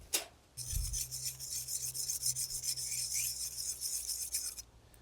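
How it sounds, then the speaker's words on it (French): A file rasps steadily in rapid flat strokes across the blade of a pruning tool used on pine shoots, a close, continuous scraping hiss with a light knock at the start and no talking. "on le sent au bruit si la lame est bien aiguisée"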